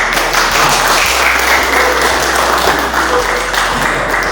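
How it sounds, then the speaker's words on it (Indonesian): Applause from a classroom of students in an Indonesian school lesson, a steady dense patter of clapping that fills the whole stretch at close range, with a low hum underneath. "Silakan tepuk tangan."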